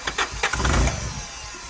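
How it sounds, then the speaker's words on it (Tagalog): A Honda Accord engine cranks with a few rapid starter bursts, then catches and settles into a steady rumbling idle, close by. "umandar na yung sasakyan dyan"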